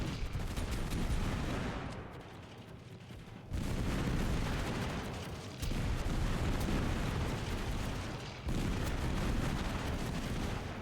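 A grenade goes off in the cartoonish battle-royale game Totally Accurate Battlegrounds: loud, close, broadband blasts with roaring rumble, cut into several sustained bursts separated by brief drops.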